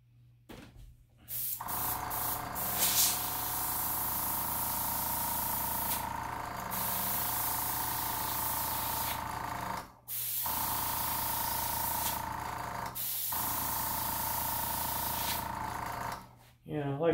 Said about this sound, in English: on an airbrush, when you're airbrushing something